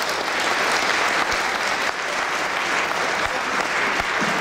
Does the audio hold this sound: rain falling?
no